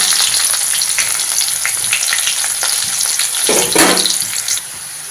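Onions fry in a pan with a steady, loud broadband sizzle that runs the whole time, with a few stirring scrapes near the end and no talking.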